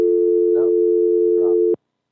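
A steady telephone busy-signal tone on a radio call-in line after the caller dropped, loud and continuous with faint voices underneath, cutting off abruptly.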